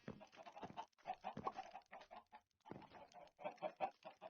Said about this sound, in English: Stupid freaking chickens.